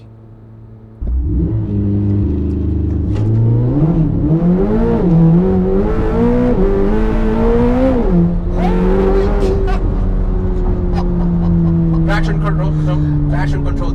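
A 1120 hp Corvette C8 ZR1 launches under full throttle, its engine roaring up through rising revs with a gear shift around the midpoint, loud from inside the cabin, while occupants talk over the noise.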